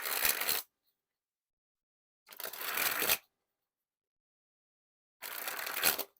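ArrowDynamix v3 Chinatown playing cards by Momentum being sprung from hand to hand in three quick, crisp riffling bursts, each under a second long, separated by silent gaps.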